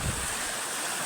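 Waterfall: a continuous broadband rush of falling water, steady and fairly loud over a brief moment.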